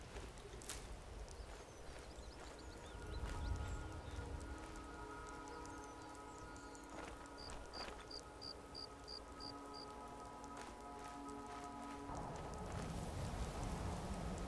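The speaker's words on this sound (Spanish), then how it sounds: "Encima se nos pone a llover." Soft, steady rain patters in Skyrim, a faint wash of falling drops under quiet game ambience, with a few brief tonal chimes partway through and no voices.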